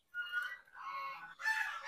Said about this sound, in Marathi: आणि इकडे सगळे आवाज करतात पक्षी